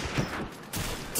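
Rapid automatic gunfire from an M60E4 machine gun in Call of Duty 4 gameplay, a dense bursty fusillade of shots continuing through the short stretch with loud bursts at the start and end.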